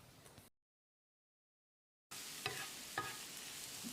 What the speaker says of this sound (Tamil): பட்டரையும் சேர்த்து வெங்காயம் லேசாக செவந்து வர அளவுக்கு வதக்கிடலாம்.